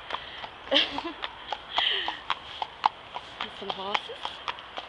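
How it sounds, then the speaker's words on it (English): A horse walks along a road, its hooves clip-clopping in a steady, close rhythm of sharp knocks, with snorts and light rustling between the steps. "Some horses."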